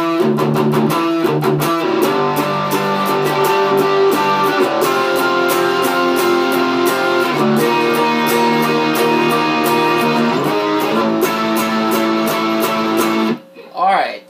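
Electric guitar playing a bridge, sustained distorted chords ringing continuously, loud and close, cutting off abruptly near the end.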